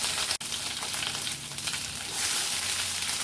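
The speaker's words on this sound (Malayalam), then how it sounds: "ഇനി ഒരു പാനിലേക്ക് കുറച്ച് വെളിച്ചെണ്ണ ഒഴിച്ച് ഇതിലേക്ക് കടുകിട്ട് പൊട്ടിക്കാം." Mustard seeds hit hot coconut oil in a pan for a Kerala fish curry, giving a loud steady sizzle close by with one sharp pop near the start and no speech.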